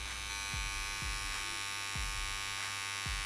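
A tattoo machine runs its needles at 9 volts with a steady, close electric buzz, while a few soft low thumps recur underneath.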